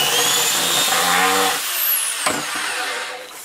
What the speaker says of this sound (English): Now I can drill the rest of the holes.